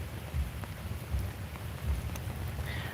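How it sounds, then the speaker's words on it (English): Light rain pattering outdoors as a faint, steady hiss with a soft low rumble underneath, continuous for the whole stretch and with no voices. "I'm hearing a little pattering of rain"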